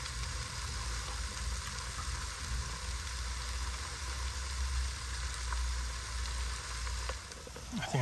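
Pork chops fry in butter in a pan, with ground beef cooking alongside in a van kitchen, giving a steady, close crackling sizzle that runs throughout with no talking.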